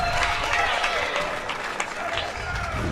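Spectators at a professional pickleball open in Atlanta clap and cheer after a cross-court shot, a steady, moderately loud patter of applause throughout.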